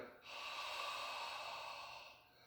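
A single long exhale through the mouth during a breathing exercise, close and soft, a breathy airy rush that swells after a brief pause and then tapers away.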